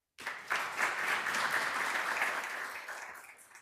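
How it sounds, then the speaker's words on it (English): Audience at a tribute event for Luis A. Gonzalez breaks into applause, a sudden swell of dense clapping that holds steady and then tapers off near the end. "I'm going to ask that you hold your applause"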